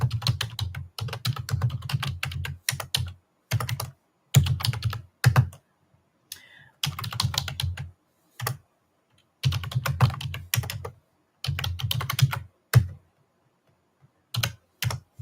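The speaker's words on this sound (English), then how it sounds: "I'm just going to type a bunch of stuff in here." Fast, continuous typing on a computer keyboard, close and crisp key clatter in bursts separated by short pauses, with no talking.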